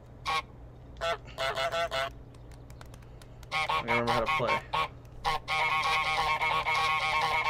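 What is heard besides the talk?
goose honking in Untitled Goose Game, video game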